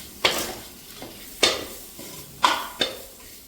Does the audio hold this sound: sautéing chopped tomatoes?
yes